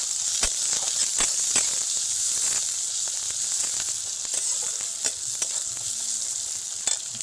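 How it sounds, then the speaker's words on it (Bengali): Onion and green chili fry in hot oil with a bright, steady sizzle, broken by occasional sharp crackles and light stirring taps, heard up close. "পেঁয়াজ আর কাঁচা লঙ্কা তেলের মধ্যে দিয়ে দিলাম পেঁয়াজ কাঁচা লঙ্কাটাকে হালকা একটুখানি ভেজে নেব"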